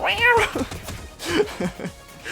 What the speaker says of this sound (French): C'est les bruits de chat